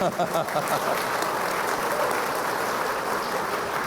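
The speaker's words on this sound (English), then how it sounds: "big round of applause for Anna" A Chamber of Commerce business audience applauds steadily, a dense sustained wash of clapping at a moderate distance with faint voices mixed in.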